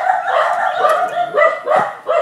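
Several dogs in the Philippines bark and yelp in quick, overlapping bursts, loud and fairly close, with uneven rhythm throughout.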